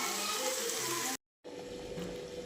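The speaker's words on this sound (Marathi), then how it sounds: "आता पाणी टाकून याच्यामध्ये पाणी उकळायचे" Water splashes and pours into a cooking pot for boiling rice in a steady rush, broken by a short silent gap before the pouring continues.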